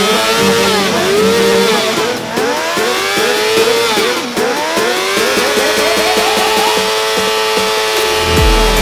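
A motorcycle engine revs hard and continuously during a burnout after a first wheelie attempt with a broken rear brake, loud and close, with pitch sweeping up and down through repeated throttle blips.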